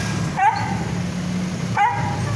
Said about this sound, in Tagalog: Nakakaawa yung aso.